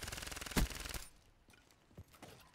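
Gunfire in the first-person shooter Black Ops III opens with a rapid automatic burst and a sharp louder shot, then fades to a few scattered distant pops and thuds.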